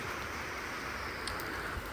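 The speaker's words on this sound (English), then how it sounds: "it's probably going to get a little noisy because of the rain on the metal roof" Rain drums on a metal barn roof as a steady, dense hiss with faint scattered patters, constant and moderately quiet throughout.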